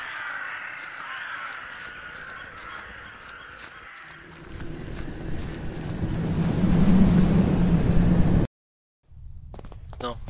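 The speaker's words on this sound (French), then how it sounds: "Oh, j'entends des corbeaux." Crows cawing in the atmospheric horror game The Last Door, a series of sharp repeated caws over misty ambient wind and low rumble, continuing as a deep drone swells, then a brief silence.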